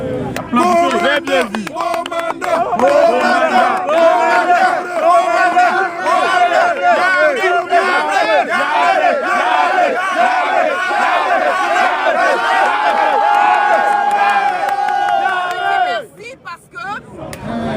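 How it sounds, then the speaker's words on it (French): A large crowd cheers and shouts for commander Yabré, with many voices roaring together loudly and almost without a break. The din dips sharply near the end before picking up again. "On va applaudir pour le commandant Yabré."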